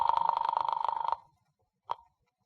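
An old-style telephone bell rings in a rapid trill for about a second as an audiobook sound effect, then falls silent before one brief clipped ring, close and clean with no talking.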